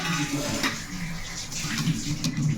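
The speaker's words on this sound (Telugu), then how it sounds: "ఇందులో చల్లటి నీళ్ళు వేసేసుకుంటే" Cold water pours steadily into a pot with a continuous splashing, bubbling rush, close and fairly loud.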